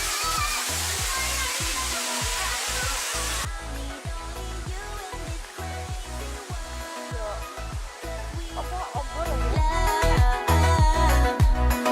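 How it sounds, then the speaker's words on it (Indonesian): Sedudo waterfall in Nganjuk roars as a dense, steady wash of falling water, loud and close, with rhythmic thumps and rustling handling noise layered over it. "Pemandangannya air terjun."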